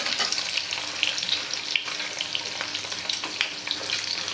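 Duck eggs frying in a pan over a high gas flame, a steady soft sizzle with scattered small pops and scraping taps, fairly faint, no talking.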